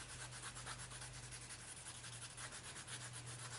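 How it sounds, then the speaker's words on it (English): Polishing compound is rubbed onto a leather strop in steady back-and-forth strokes, making a soft, faint, rhythmic scratching close by. "the way that works is you would rub the polishing compound"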